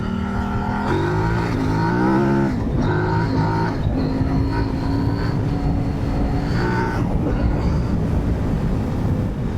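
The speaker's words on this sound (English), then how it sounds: "Wow, the engine is just a peach. What a phenomenal engine, just awesome." A Kove 800X Rally adventure motorcycle engine heard while riding at speed, a loud, close, continuous drone whose pitch climbs and dips with throttle and gear changes, mixed with rushing wind.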